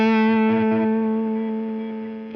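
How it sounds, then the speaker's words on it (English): An electric guitar through a 1981 distortion pedal rings out, a thick sustained chord with a brief riff of chopped notes, then lets the buzzing tone decay alone. "let's listen to a guitar riff through each of these three"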